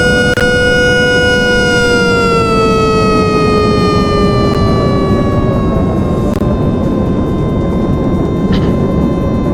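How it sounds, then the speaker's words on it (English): Omnidirectional tornado sirens with working choppers wind up in the SirenRailz game, making a loud, continuous wail whose pitch slowly sinks, with storm noise rumbling underneath and a few faint clicks. "some of the omnidirectional sirens do have functioning choppers"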